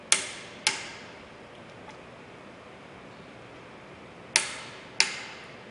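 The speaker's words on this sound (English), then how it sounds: "Release pressure as soon as the wrench clicks." A torque wrench clicking on a wind turbine bolt: four sharp, close clicks, two early and two late, over a steady hiss of background noise, with no talk.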